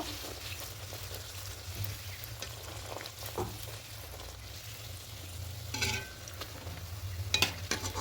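Milk powder kachori frying in hot oil, a quiet continuous sizzle and crackle up close, with occasional faint utensil scrapes and a few brighter pops near the end.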